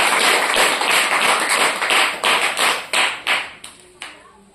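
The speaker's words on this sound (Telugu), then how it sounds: "డబ్బులు కొట్టి చప్పట్లు గట్టిగా." A crowd at a Christian gathering claps hands loudly together in a steady rhythm, the beats growing sharper and more spaced out, then thinning to a few last claps.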